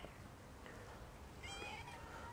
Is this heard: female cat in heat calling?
yes